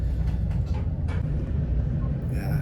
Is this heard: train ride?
yes